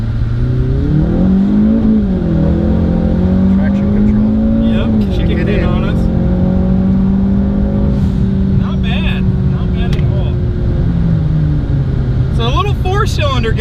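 A 2.3L EcoBoost four-cylinder Mustang with an NX2 turbo pulls hard through the gears, its engine note rising and dropping at each shift, loud from inside the car, while people talk over it.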